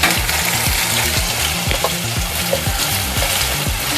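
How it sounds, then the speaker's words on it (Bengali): Turmeric and Kashmiri chili powder fry in hot oil with a steady crackling sizzle, while rhythmic stirring scrapes repeat throughout, close and clear, with no voices. "এবার সমস্ত মশলাটা আমি ভালোভাবে ফ্রাই করে নেব"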